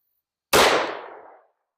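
A single sharp gunshot from a 1911 pistol firing .357 Sig DoubleTap 115-grain lead-free ammunition cracks loudly and close, then decays quickly into a short echoing tail.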